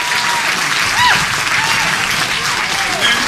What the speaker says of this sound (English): Let's give a big round of applause for all of our winners tonight and all of our nominees.